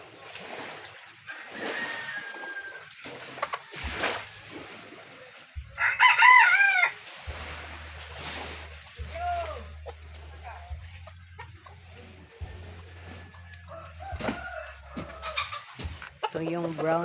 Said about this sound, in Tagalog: Ito yung brown naming manok.